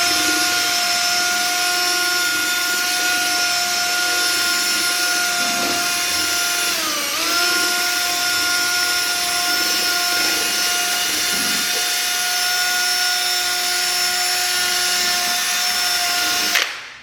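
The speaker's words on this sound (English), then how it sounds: "and then I'm going to take my drill with my sandpaper on it." A power drill fitted with sandpaper sands a plastic headlight, giving a steady high whine that runs unbroken for the whole stretch with one brief dip in pitch partway through.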